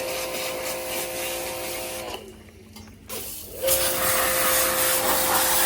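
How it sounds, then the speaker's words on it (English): Inco pressure washer spraying water while an aircon unit is cleaned: a steady loud hissing spray that runs throughout, with a brief drop in level midway before it resumes strong. "Oh, Inco. I didn't know they made pressure washers. That's a nice one."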